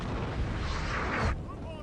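Massed musket volley fire in Total War Napoleon, a dense roaring crackle of many shots that blends into one sustained burst and then cuts off, leaving a fainter, quieter tail.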